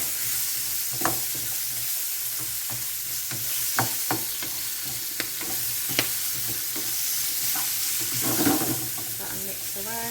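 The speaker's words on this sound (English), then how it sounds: "That and mix around, leave that to cook for a bit." Carrot and stringless green beans stir-frying with pork sizzle steadily in a pan, with scattered sharp clicks and scrapes from stirring over the constant frying hiss.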